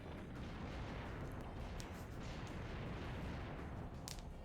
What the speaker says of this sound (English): Let me just stand in this explosion.